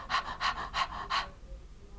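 A voice imitates end-of-life breathing: four rapid, breathy panting breaths in quick succession, then sudden silence standing in for a pause in breathing. Close and moderately loud.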